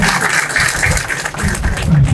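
Applause from the audience welcoming a guest at a meeting of rural medical practitioners in Telangana. It is a brief, dense clapping that holds steady, with a voice faintly underneath.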